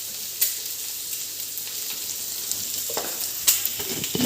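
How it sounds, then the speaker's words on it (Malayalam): Masala for restaurant-style egg curry fries on low flame in a pan, a bright continuous sizzle close up with a few light spoon clicks and stirs, no voices. "എന്നിട്ട് 2-3 മിനിറ്റ്സ് മാത്രം എടുത്ത് ജസ്റ്റ് ഇതൊന്നങ്ങ് ഫ്രൈ ആക്കി എടുത്ത് മാറ്റി വെക്കുക"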